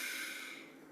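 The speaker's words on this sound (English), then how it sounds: "Take a deep breath" A single deep breath drawn in during a relaxation exercise, a steady airy hiss that fades slightly over its length, close and quiet with no talking.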